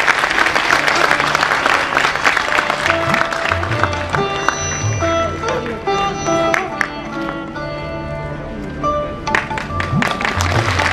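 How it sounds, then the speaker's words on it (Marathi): Applause for an honoree at a Konkan festival, steady crowd clapping throughout with music playing underneath and some voices mixed in. "जेवढ्या ताकदीची चव तुमच्या आमच्या जिभेवर आहे तेवढ्याच ताकदीच्या टाळ्या सुद्धा व्हायला पाहिजेत"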